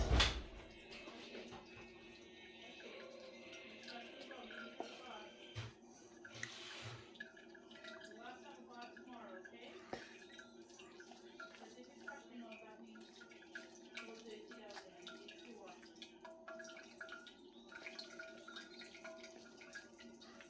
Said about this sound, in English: that's going to keep trickling for a while